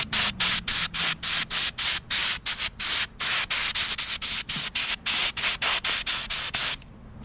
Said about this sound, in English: just kind of blow out what we can blow out